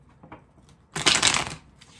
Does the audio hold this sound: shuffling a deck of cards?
yes